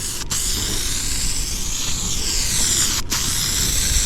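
A Rust-Oleum Hunter Green spray paint can sprays a last coat from about eight inches away: a steady, loud, broadband hiss running almost nonstop, broken by two very brief pauses, with no talk.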